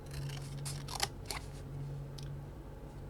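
Scissors snip along drawn lines on a paper plate in a craft class, a few quiet crisp cuts in uneven rhythm close by, with a faint steady hum underneath.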